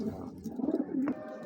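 Pigeons cooing at a bird market stall in Bangladesh where colorful young pigeons are kept, a few soft, rolling coos close by with faint background noise and no talk.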